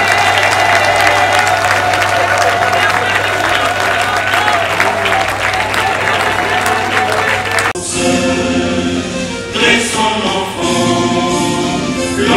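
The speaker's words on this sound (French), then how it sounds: "on continue à applaudir, nous sommes fiers." A crowd at the first Agora event applauds and cheers with pride in a large gathering, a loud continuous roar of clapping and voices that shifts to a brighter, more ragged texture near the end.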